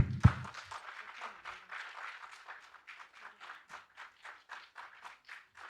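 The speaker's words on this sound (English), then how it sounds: "Let's hear a load of applause for all of them." Audience applause for a corporate panel on CSR and ESG, a loud thump at the start, then a steady run of moderate clapping that thins into separate rhythmic claps toward the end.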